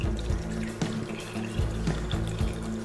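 Watermelon iced tea pours out of a hollowed watermelon into a bowl at a table's edge, a steady close liquid trickle and splash with small surges, no talk.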